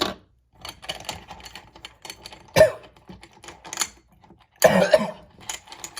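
Two sharp coughs ring out a couple of seconds apart, close and loud, over quiet clicking and tapping sounds.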